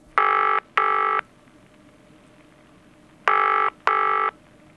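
Touch-tone telephone dialing for a 1990 BBC interactive chess phone line: four clear beeps in two pairs separated by a pause, loud and clean over a quiet background.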